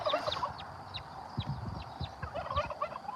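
Agitated caged fowl clucks and gobbles in repeated bursts at moderate distance, a steady run of sharp calls over a low background of household noise with no talk.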